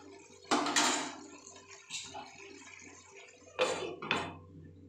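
Metal clatter of a lid being set onto a cooking pot of chickpeas, two bursts of clanking about three seconds apart with a faint clink between, close and fairly loud in a quiet kitchen.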